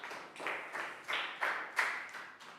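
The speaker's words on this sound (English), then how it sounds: "Big round of applause for Nadia." Around seven quiet, evenly spaced hand claps from a single person in a small room cheer a Year 3 pupil during an English lesson, with no voices over them.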